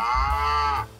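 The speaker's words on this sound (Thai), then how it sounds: "เสียงวัวก็มี" A single drawn-out cow moo plays as an alarm tone from a Vstarcam CS64 security camera app, loud and close, then cuts off abruptly near the end.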